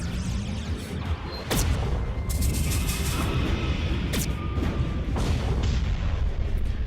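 Starship weapons fire in the space strategy game Halcyon 6: Starbase Commander, a series of loud booming bursts and sharp blasts over a continuous rumbling battle backdrop, with no talk.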